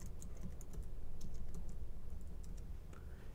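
Typing a preset name on a computer keyboard, a soft, close, steady patter of key taps over a few seconds, with no talking.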